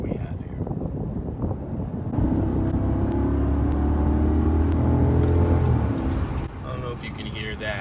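Cabin view of an Audi S8 with a newly fitted exhaust accelerating, a deep engine rumble rising and swelling for several seconds before easing off, heard from the interior with some road and wind noise.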